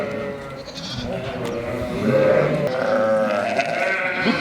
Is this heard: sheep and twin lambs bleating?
yes